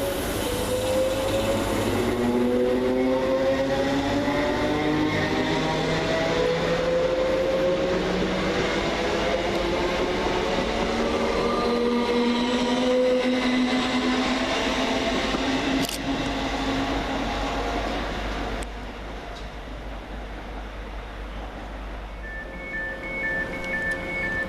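Class 321 and 322 electric multiple units pass through Romford station bound for Clacton-on-Sea, with a rising and falling motor whine over a loud, steady rolling rumble that eases off toward the end.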